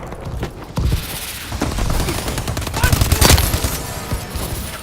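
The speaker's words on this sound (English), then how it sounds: "the Breakneck's KF5 in general has always been a good gun" Rapid bursts from the Breakneck KF5 gun in Call of Duty: Advanced Warfare, with dense, continuous automatic fire and sharp reports layered with other in-game battle noise and a few louder blasts.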